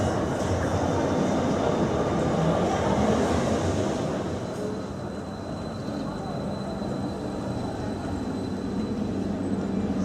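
Croydon Tramlink tram running between Woodside and Addington near Black Horse Lane, a steady broadband rumble of wheels on rail with a faint high whine, continuous and fairly loud, easing slightly partway through.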